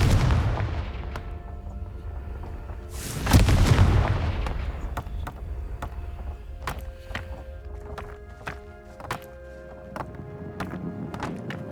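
A Confringo blasting spell explodes in Hogwarts Legacy with one loud, booming burst, then crisp clicks and light game effects continue over a low ambient bed.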